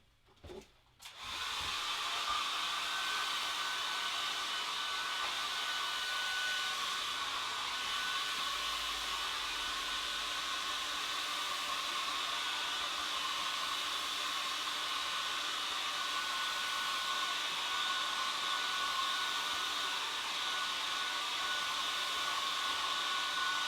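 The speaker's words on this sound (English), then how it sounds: "Just going to give it a very quick blast with the dryer." A hair dryer blasts air over a watercolour painting to dry it, starting with a click and then running as a steady, loud whirring hiss for over twenty seconds with no talking.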